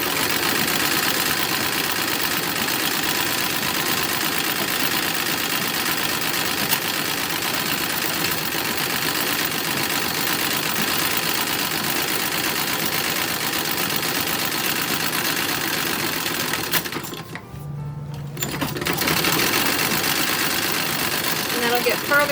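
A sewing machine runs continuously while top stitching a toddler romper, a steady whirring mechanical hum that holds for most of the stretch, briefly dropping out near the end before resuming.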